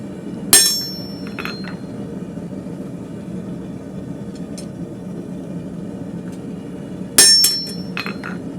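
Two sharp metallic hammer blows on a flatter held against hot steel while forging a hook knife, each ringing briefly, spaced several seconds apart over a low, quiet workshop background.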